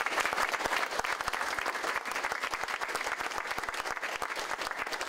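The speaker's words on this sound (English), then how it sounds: "let's give them one last round of applause" Audience giving students a final round of applause after a presentation on pre-fracking baseline water quality data collection in Frostburg; steady, even clapping at moderate volume throughout.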